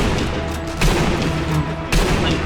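Sniper fire in the video game Sniper Elite V2, loud continuous gunfire with sharp reports recurring roughly every second over a dense battle mix.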